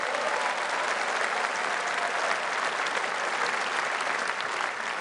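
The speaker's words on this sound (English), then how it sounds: "give her a round of applause." Steady, dense applause from a large audience at a political rally in Birmingham, continuous and loud throughout with no pauses.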